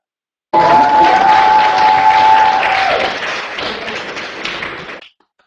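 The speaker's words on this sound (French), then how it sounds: "il faut les entendre, il faut les applaudir, ces gens-là" Audience applause at a social-inclusion theatre festival performance, a dense burst of clapping that starts abruptly, holds steady for about four seconds, then thins out and fades.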